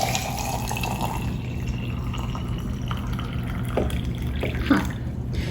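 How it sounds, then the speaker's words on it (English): Boiling water is poured into jars to fill them, a continuous close-up trickle and gurgle of liquid with a few small clinks, steady and unaccompanied by talk. "And now I just fill them up the rest of the way with hot water, with the boiling water."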